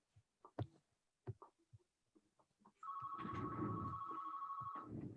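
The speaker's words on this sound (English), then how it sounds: "Somebody's got a phone ringing." A phone rings insistently during a meeting, a steady electronic ringtone that cuts in after a few scattered voices and knocks and keeps sounding close by for a couple of seconds.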